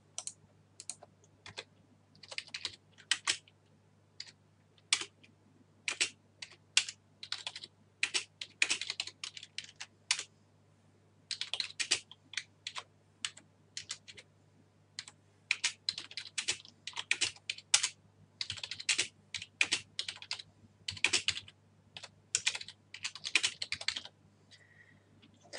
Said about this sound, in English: I will now type a small piece of code that adds with a variable,